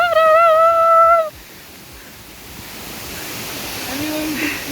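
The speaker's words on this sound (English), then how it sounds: "Because 2 waterfalls was not enough. Here is the 3rd one!" A waterfall in the Catlins, New Zealand, gives a broad, steady rushing roar. A brief tonal sound opens the clip, then the water noise carries alone at an even level.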